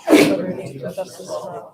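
At a borough council meeting, a single sharp sneeze bursts out up close while several people keep reciting the Pledge of Allegiance together in steady speech.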